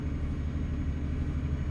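Truck engine in Euro Truck Simulator 2, a steady low rumbling growl, close and continuous with no talking.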